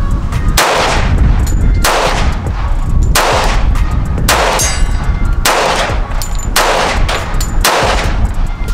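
A .45 ACP pistol firing 230 grain full metal jacket rounds with brass casings at a gun club range lets off seven loud, sharp reports, evenly spaced over several seconds, each ringing briefly before the next.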